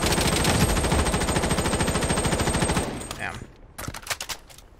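Rapid automatic M4A1 rifle fire in the shooter game Project BloodStrike, a loud continuous burst for about three seconds, then a few short scattered shots and clatter.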